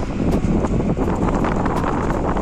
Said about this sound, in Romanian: Bate vântul tare.